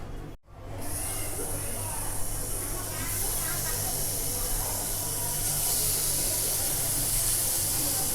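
Marinated murrel fish pieces laid on a hot dosa tawa hiss into a loud, steady frying sizzle after a brief pause, with a voice talking faintly under it.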